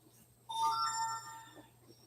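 A phone ringing indoors, a short bright electronic tone sounding for about a second against a quiet room with a faint low hum.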